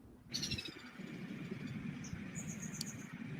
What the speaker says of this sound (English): this is what a West Indian woodpecker looks like and sounds like in the wild